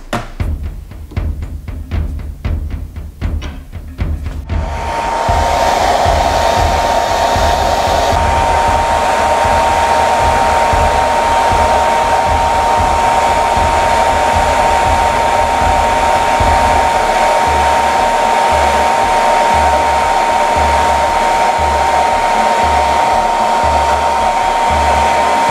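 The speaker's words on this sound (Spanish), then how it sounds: "utilizaremos un secador de pelo sujetando la cápsula en el tornillo de banco" A hair dryer warms a valve capsule held in a bench vise. After a few seconds of rattling handling noise it switches on and blows as a loud, steady whooshing whine close by until the end.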